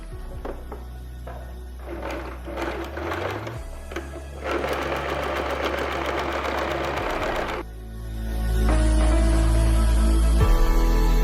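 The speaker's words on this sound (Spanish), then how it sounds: "así que cosemos acá hasta la marca del alfiler" A Singer sewing machine stitching fabric for a vest seam, its motor whirring in close, loud bursts of rapid needle chatter that stop and restart, with a brief pause and a heavier, deeper run near the end.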